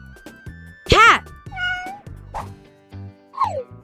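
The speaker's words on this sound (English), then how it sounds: "It's a cat." A cat meows twice, clear and close, with short bursts of a voice speaking between the calls.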